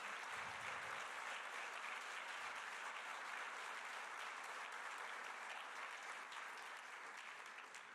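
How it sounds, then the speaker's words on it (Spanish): A church congregation applauds in a dense, sustained wash of clapping that carries evenly from start to finish and fades a little at the end, heard at a distance with no voices over it. "Dele un aplauso fuerte al Señor."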